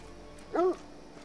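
Single short dog bark or yelp from a hunting dog in theHunter: Call of the Wild, set in Yukon Valley, heard once, mid-distance and alone against a quiet game ambience.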